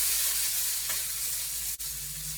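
Parboiled potatoes sizzle in butter in a pan, a steady, close, loud frying hiss that runs unbroken throughout with no voices.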